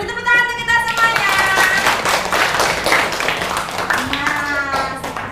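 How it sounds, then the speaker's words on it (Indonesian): Classroom applause from elementary school pupils and their teacher, a dense burst of hand clapping spread across the room, loud and steady, with children's voices calling out over it. "Beri tepuk tangan untuk kita semuanya."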